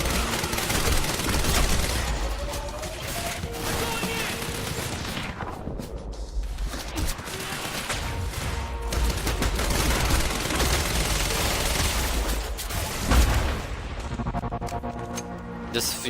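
Gunfire in the video game Quantum Break, bursts of rapid shots and heavy impacts rolling through a loud battle scene, with short gaps between volleys across about sixteen seconds.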